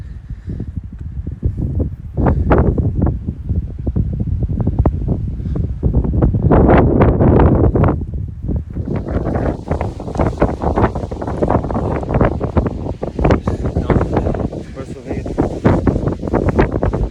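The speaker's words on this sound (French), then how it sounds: "Il y a trop de vent." Strong wind batters the microphone on the GR20 mountain trail in Corsica, a loud, continuous roar with heavy gusty buffeting and rustling that never lets up.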